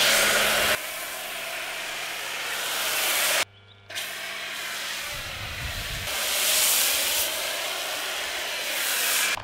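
A pressure washer sprays snow foam on a cold day, giving a loud steady hissing rush that cuts out briefly and then starts again, continuous and close, with no talking.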